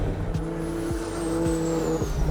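Two-rotor-swapped Corvette Z06 on a track, its engine droning loudly with repeated sharp drops and rises in pitch as gears shift, several quick shifts in a row with a faint high whine above.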